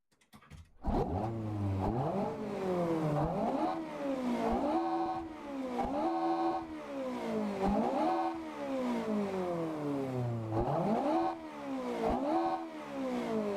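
A Toyota MR2 engine revs hard, climbing again and again toward roughly 9,000 RPM with a rising pitch on each pull and a drop between them. It is close, loud and steady, with no talking.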